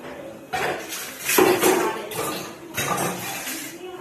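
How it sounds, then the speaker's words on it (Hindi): Dishes, pots and utensils being washed, with close clattering, clinking and knocking of metal vessels in irregular bursts over running background noise. "फाइनली सारे बर्तन धुल चुके हैं"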